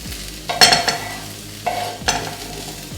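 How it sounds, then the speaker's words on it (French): Onions and bacon sizzle in a frying pan while a utensil stirs them, giving two loud scraping bursts of stirring over a steady close sizzle, with no speech. "c'est juste pour saisir et faire un petit peu dorer les oignons pour les rendre un petit peu plus digestes, et puis le bacon"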